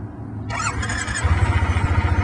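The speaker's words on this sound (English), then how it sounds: "First, start the bike with the clutch in and the transmission in neutral." A motorcycle engine cranks with a brief whine and then catches, settling into a loud, close, rhythmic idle that pulses steadily.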